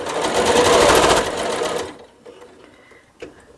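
A sewing machine stitches a nine-patch star quilt block in a fast, loud, close burst of rapid needle chatter lasting nearly two seconds, then stops, leaving quiet handling sounds and a single sharp click.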